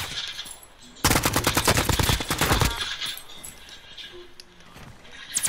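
Rapid automatic gunfire in Call of Duty: Modern Warfare, a loud close burst of fast shots lasting over a second, followed by quieter scattered game noise and a faint voice.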